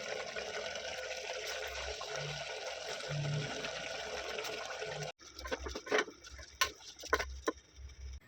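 Rice stirred into mutton gravy in a cooker for seeraga samba mutton biryani, giving wet, sloshing liquid sounds and irregular close scraping and clinking bursts, steady at first and then choppier.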